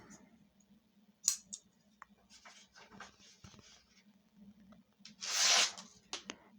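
A CRKT Symmetry folding knife slices through paper, giving brief, close rustles and one louder swishing cut, with faint handling noise and quiet moments between strokes.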